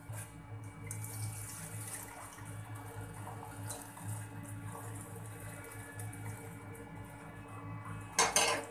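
Water runs and splashes steadily while metal pots and utensils clatter, ending with a louder rush and clank as boiled wheat noodles are tipped and drained in a strainer.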